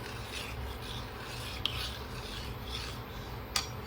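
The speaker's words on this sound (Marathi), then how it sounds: "हलवत राहूया म्हणजे कसं आपल्या खव्याचं काही गाठी जर असतील तर ते हलवून ठेवून जाते" A spoon stirs khoa kheer in a pan, a soft continuous scraping rasp close by, broken by two faint clicks.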